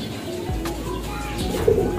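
A pet pigeon coos softly and close by, a short low cooing phrase alone without talk.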